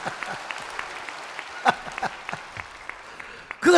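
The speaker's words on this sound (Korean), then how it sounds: "박수 한번 해보세요." Congregation applause during a Korean church sermon: scattered, uneven handclaps patter steadily through the hall, swelling into a louder burst of clapping at the very end.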